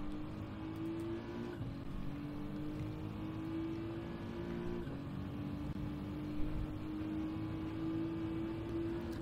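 A race car in Gran Turismo 7 holds a steady, fairly quiet engine drone under acceleration, its pitch climbing and dropping back twice as gears change.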